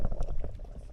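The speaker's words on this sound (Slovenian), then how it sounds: "Vre." Coffee boiling in a pot outdoors on a camping trip, a dense close bubbling and gurgling that continues steadily throughout.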